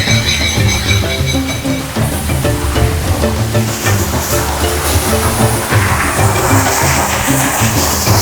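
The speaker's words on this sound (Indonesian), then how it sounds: "Yuk sini ke air terjun." A waterfall roars as broadband rushing water, loud and steady throughout, with a low rumbling undertone and no voices heard.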